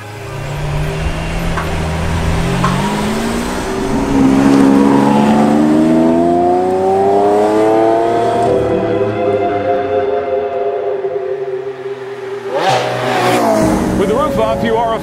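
Lamborghini Aventador Roadster, roof off, revving on a runway, its engine note climbing and falling in a long sweep close by, with a voice talking over it.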